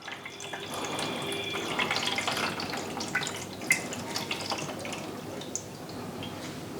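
Flavoring syrup and water pour into a slush machine, a steady splashing stream of liquid running for several seconds at close range, with a few faint clinks, and no one talking.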